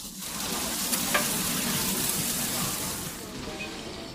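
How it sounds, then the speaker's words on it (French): Frozen seafood drops into hot oil at a street food stall in China, sizzling and crackling loudly and continuously at close range, with faint background murmur. "on voit bien qu'ils le font frire directement surgelé"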